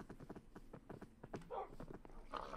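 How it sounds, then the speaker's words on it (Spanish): Horse hooves clip-clop in an uneven walking rhythm from a freshly tamed horse in a video game, close but quiet, with bursts of other game noise layered in. "El caballo ya tiene doma."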